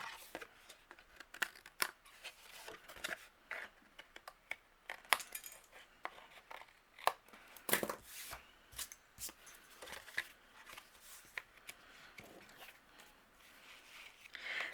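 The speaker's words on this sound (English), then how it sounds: "if I have overhanging, I'm going to trim off with my scissors" Scissors snip overhanging paper off the edge of a handmade cherry blossom card, giving a quiet run of short, close crisp cuts and paper rustles with no talking.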